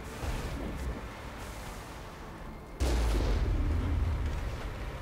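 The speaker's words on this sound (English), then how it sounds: "Oh, missiles incoming." Missiles strike and explode in the Mass Effect video game: a steady barrage of booming blasts, then a much louder, closer impact near the three-second mark that sustains into heavy rumbling, with no talk.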